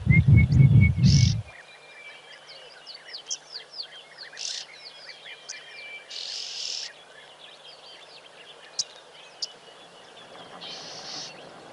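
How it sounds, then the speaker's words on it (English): Orange-breasted bushshrike calls and chittering oxpeckers heard from a hide, with repeated short chirps and bursts over a faint insect hum, after a brief low rumble at the start. "There's the chitter from the oxpeckers as well. The orange-breasted bushshrike."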